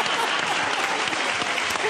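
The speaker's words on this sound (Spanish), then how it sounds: "No aplaudan tanto." Studio audience applauding on a live Chilean TV morning show, steady dense clapping filling the room throughout, with voices faintly mixed underneath.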